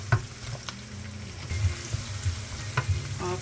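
Carrots sizzling in a hot pan, a steady close fry hiss broken by a few soft knocks and shifting pieces, with no talking.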